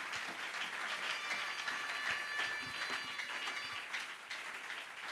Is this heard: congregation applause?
yes